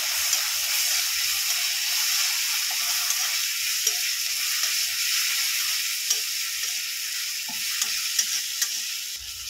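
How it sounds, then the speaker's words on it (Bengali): Grated ginger and garlic frying in a pan: a steady, fairly loud sizzling hiss throughout, with occasional faint stirring taps and clicks. "হালকা করে আদা রসুনটা ভেজে নিয়েছি"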